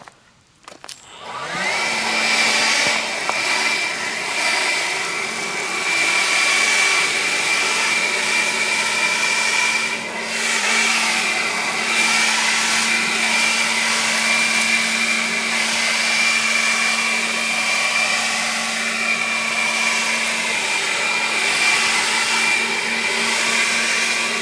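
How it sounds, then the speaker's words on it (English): A PowerSmart 40V cordless leaf blower running steadily at close range, a constant electric whirring hum with an airy rush that holds level for the whole stretch after a quick spin-up, no voices over it. "This thing is much quieter than a gas engine blower."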